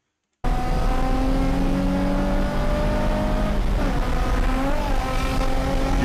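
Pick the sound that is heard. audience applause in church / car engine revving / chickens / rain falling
car engine revving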